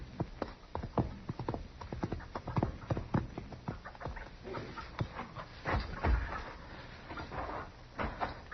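Horse hooves clip-clop at a steady walking pace at close range on a Western film soundtrack, with no voices over them.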